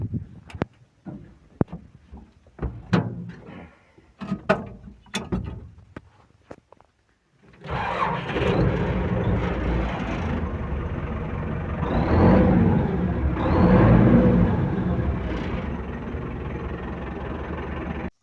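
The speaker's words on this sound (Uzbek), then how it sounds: "Traktor ishga tayyor." A 2013 MTZ 82.1 tractor, first a series of clicks and knocks, then the engine catches and settles into a loud steady diesel rumble that swells as it is revved twice.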